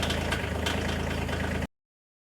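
A tractor engine idles close by with a steady, even rumble, then cuts off abruptly partway through.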